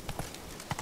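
A few quick horse hoofbeats from galloping in The Witcher 3, sharp close clip-clop strikes in uneven pairs over a short moment, with soft game ambience underneath.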